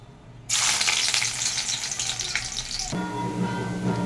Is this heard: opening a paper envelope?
no